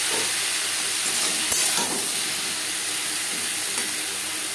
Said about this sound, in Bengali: তেল গরম হয়ে গেছে, এবার দিয়ে দেবো বরবটি।